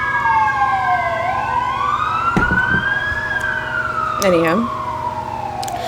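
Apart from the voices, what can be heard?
emergency vehicle sirens passing outside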